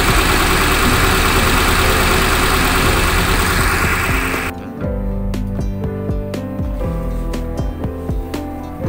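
A car's engine with a carburetor whose air screw is set at 2.5 turns idles steadily up close, a low continuous rumble with a faint mechanical tick, heard alone.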